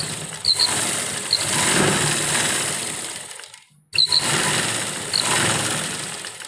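Sewing machine stitching the side seam of an oversize readymade kurti being altered at home, a close, loud whirring run that pauses briefly and then starts up again, with faint high squeaks.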